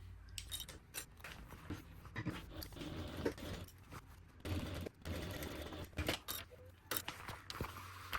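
Domestic sewing machine top stitching the gusset of a fabric tote bag, running in short bursts with rapid needle clatter separated by brief pauses, close and fairly quiet.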